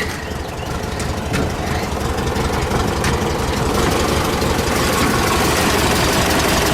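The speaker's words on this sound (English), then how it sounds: "And this engine, you guys, is so quiet since I adjusted those valves. I mean, listen to that." An air-cooled 1600 engine in a 1971 VW Type 3 Squareback idles close by, a steady, even mechanical chatter with a low rumble and no talking.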